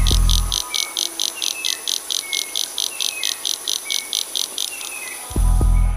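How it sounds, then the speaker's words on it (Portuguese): Recorded call of the sapo pingo de ouro, one of the smallest frog species: a steady series of about eighteen short, high-pitched chirps at an even rhythm, clear and alone against a quiet background. "O som do sapo pingo de ouro, uma das menores espécies,"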